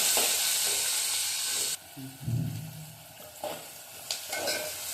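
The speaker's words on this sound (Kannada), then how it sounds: "ಈರುಳ್ಳಿ ಸ್ವಲ್ಪ ಫ್ರೈ ಆಗಿದೆ" Onions frying in a pan for tomato kurma, a steady close sizzle that drops away partway through, then resumes with soft stirring scrapes and crackle.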